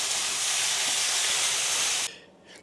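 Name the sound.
prawn, bean and padron pepper stir fry sizzling in pan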